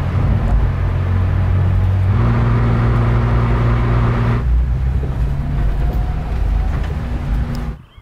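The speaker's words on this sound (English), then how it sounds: "It's such a good feeling to drive race car on street" A race car driven legally on a public street in Germany, its engine droning loudly and steadily at close range with shifting tones as it changes gear, cutting off abruptly at the end.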